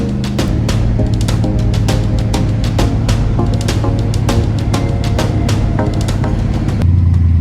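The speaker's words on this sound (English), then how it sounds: "But we are out on the interstate cruising." A race car cruising on the interstate, with a steady loud engine drone and road rumble filling the cabin throughout and no letup.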